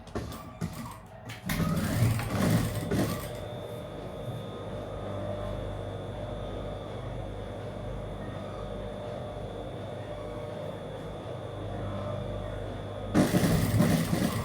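A sewing machine stitches the folded hem of a kurti, running as a steady, even motor whir for several seconds between bursts of louder handling noise at the start and end.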